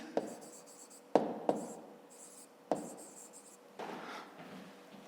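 A pen writes in a school notebook during a fifth-grade maths exercise: close, quiet scratching in short strokes, broken by a few sharp taps of the pen against the page.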